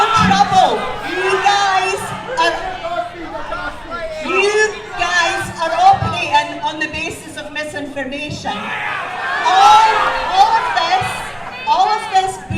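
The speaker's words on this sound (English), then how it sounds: "All of this booing and shouting at me" A protest crowd at a Peterhead United protest boos, yells and shouts over a speaker addressing them, the jeering swelling and falling in loud waves throughout.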